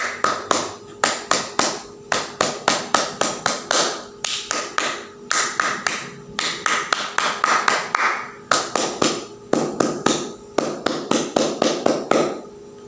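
Pramuka scouts perform the rhythmic scout clap, many sharp hand claps in quick patterned bursts repeated over and over, loud and close with no talking over them.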